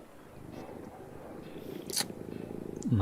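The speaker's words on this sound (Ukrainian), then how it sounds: "О, кіт." A cat purrs in a video game, a soft rhythmic rumble under game sounds, with a brief click and a short burst of noise near the end.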